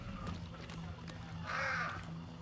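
Crows caw in the video game Hunt: Showdown, a harsh burst of calls rising clearly around the middle of the clip over a low rumbling game ambience, fairly close and loud, with no talk over them.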